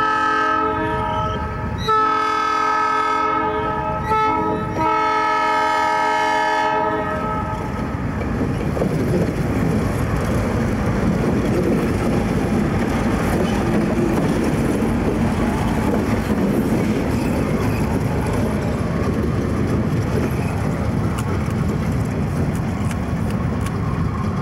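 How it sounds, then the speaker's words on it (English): A loud Santa Fe train horn blares in long harmonic blasts for several seconds, then the heavy rumble and clatter of the passing train continues steadily. "Comes another Santa Fe train."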